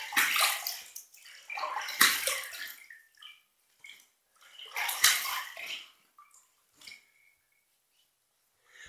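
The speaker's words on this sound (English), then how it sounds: "I'm going to rinse." Running water splashes in bursts as a shaver rinses a razor, with three louder gushes separated by brief pauses and small drips and taps, close and clear with no talking.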